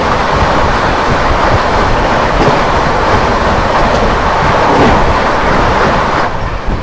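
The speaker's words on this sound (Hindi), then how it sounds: "चलिए भाई, ये आ गई वाराणसी नई दिल्ली वंदे भारत एक्सप्रेस।" The Varanasi–New Delhi Vande Bharat Express passes close by in a loud, continuous roar with rushing air and clattering wheels, which eases slightly at the very end.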